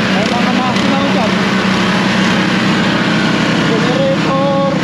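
A generator runs at a truck wash-out lot as a loud, steady engine drone that holds even throughout, with a voice speaking over it now and then.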